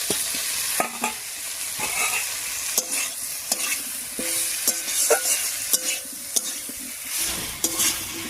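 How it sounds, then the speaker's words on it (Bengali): Fried pumpkin with potato and tomato sizzles in a pan while a spatula stirs and scrapes it in repeated clinking strokes over a constant frying hiss, close and clear. "এবার এর মধ্যে দিয়ে দিচ্ছি ভেজে রাখা মিষ্টি কুমড়ো, আর মিষ্টি কুমড়োটা দিয়েও একটু কষিয়ে নেব"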